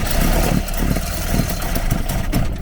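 A Ford Capri engine cranks over steadily without catching, a loud, continuous churning drone with a rhythmic low pulse from the starter, heard close up.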